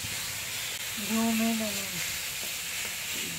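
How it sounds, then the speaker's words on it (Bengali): Cauliflower curry simmering in a pot over a wood-fired clay stove at home, a steady close sizzle and hiss, with a voice talking briefly over it partway through. "মা হচ্ছে উনুনে রান্না করছে"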